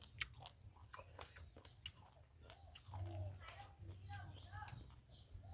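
Quiet, close crunching as someone chews crisp food, irregular bites with soft voice sounds in between.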